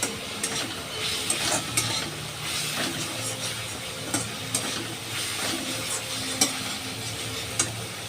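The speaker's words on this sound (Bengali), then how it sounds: "ভালো করে ভেজে নিতে হবে আবারও।" Raw banana fries in a pan with cumin powder and Kashmiri chilli powder, a steady close sizzle broken by repeated scraping stirs and spatula knocks, and no speech.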